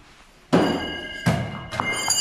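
A thrown knife from a Lefux-Stork set strikes a wooden target three times, each a sharp thunk with a short ringing tail, fairly near; the second and third impacts fall at an even pace and sound softer than the first.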